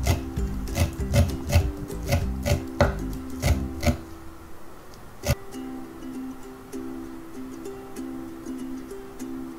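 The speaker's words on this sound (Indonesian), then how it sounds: "Saya tambahin daun bawang seledri, saya iris juga kecil-kecil." Green onion and celery being sliced finely with a knife on a cutting board, a quick run of close, crisp, evenly paced chops that stops partway, followed by a single later chop over a soft steady background hum.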